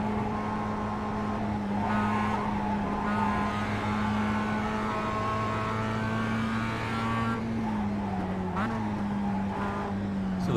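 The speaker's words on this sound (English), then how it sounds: "So here, have a few moments of just hearing the car." Mazda race car engine in iRacing at the Nordschleife, a loud sustained droning whine holding steady pitch, easing slightly near the end, with no talk over it.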